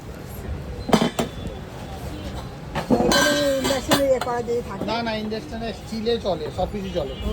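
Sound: steel wok being handled in a shop

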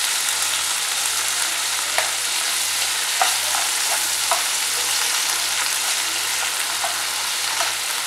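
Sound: sautéing tomato with salt and asafoetida

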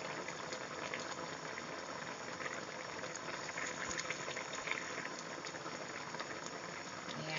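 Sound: chicken giblet soup boiling in pot

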